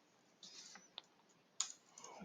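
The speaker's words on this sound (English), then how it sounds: "If you hit the up arrow on your keyboard, you can cycle through the different commands that you've used before." Computer keyboard keys pressed while configuring static routes on a Cisco router, a handful of faint, crisp clicks scattered irregularly in a quiet room.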